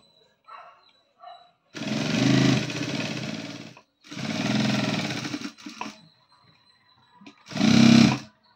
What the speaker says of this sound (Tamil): ஆம்கோல் ரவுண்ட் தையல் போடுறோங்க.